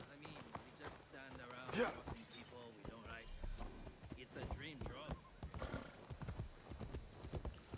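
Rapid hoofbeats of a galloping horse with a whinny in Assassin's Creed Shadows, mixed with game sound effects and overlapping voices, fairly loud and busy throughout.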